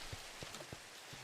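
Steady rain pours down in the Minecraft video game, a soft, even hiss with a few faint, dull taps mixed in, continuous and unbroken with no voices.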